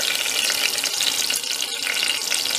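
Panch phoron, a five-spice seed mix, sizzles steadily in hot oil in a home kitchen as a curry of broad beans begins, a dense crackling hiss that holds close and loud throughout with no talking.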